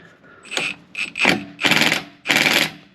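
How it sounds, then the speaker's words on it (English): An impact wrench on a low setting snugs a new axle nut on a Kia Rio during a passenger-side CV axle replacement, firing in four rattling bursts that grow longer, loud and close. "Now I'm just using the impact on a low setting to get this snug."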